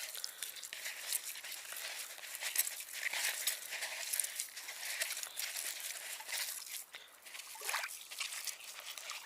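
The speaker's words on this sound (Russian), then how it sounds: "Когда он немножко постоял, пропитался, хлебушек, как следует разминаем его." Soaked bread being kneaded by hand into fishing groundbait outdoors, giving a steady wet squelching and crinkling texture with soft sloshing, close and fairly quiet, continuous throughout.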